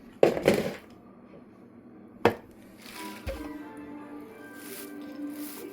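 Pulp from a juicer making green juice being scraped out by hand, heard as a couple of wet, squishy thumps and scrapes close by, followed by quieter rustling and low background hum.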